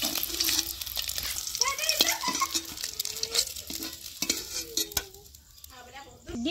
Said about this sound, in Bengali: ডিম আমি হালকা লাল লাল করে ভেজে নিচ্ছি